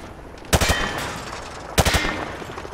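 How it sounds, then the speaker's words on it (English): Two short bursts of rapid rifle fire at range targets in Call of Duty Modern Warfare 2 Remastered, each a sharp spray of several shots separated by a brief pause, loud and dry over a faint background hum. "He sprayed bullets all over the damn place."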